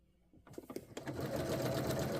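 A sewing machine starts up and stitches fabric on its longest stitch length, a few hesitant clicks building into a steady, fast, close mechanical whirring run.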